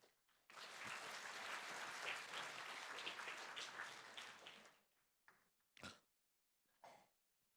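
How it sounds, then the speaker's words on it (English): Conference audience applause at a supplier forum, a faint, distant burst of clapping lasting about four seconds before it stops, followed by a few scattered coughs and throat clearing. "Let's give a hand of applause."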